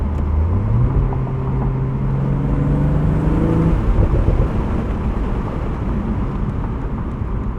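A 2023 BMW Z4 M40i with an 8-speed automatic drives under steady load, its engine note rising through the gears and then settling into a continuous road rumble and wind noise from the cabin.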